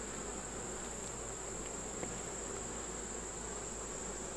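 Honey bees buzz steadily around an open hive frame of capped brood during a beehive inspection, a continuous close insect drone with no voices.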